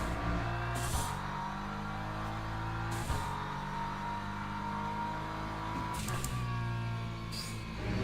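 Sim racing gear shifter clunking on upshifts, a few sharp knocks spaced seconds apart over a steady droning game engine, with no one talking.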